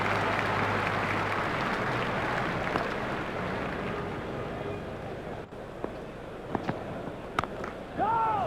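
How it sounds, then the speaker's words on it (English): Stadium crowd in a cricket video game, a one-day international against Australia, applauding and cheering a boundary shot: a dense, steady roar of clapping and noise that fills the whole stretch and swells slightly near the end. "The crowd were brought to their feet by that shot."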